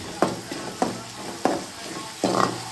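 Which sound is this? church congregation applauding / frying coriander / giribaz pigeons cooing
frying coriander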